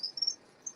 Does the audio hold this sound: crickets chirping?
yes